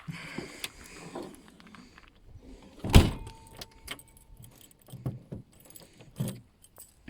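A bunch of car keys jangles near an Alpine car, with one sharp metallic clatter midway among scattered small clinks and handling knocks, close and otherwise quiet.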